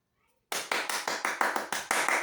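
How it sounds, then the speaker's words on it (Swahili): Audience applause starting abruptly after a short silence, a run of roughly eight distinct loud claps in steady rhythm, close by. "Makofi"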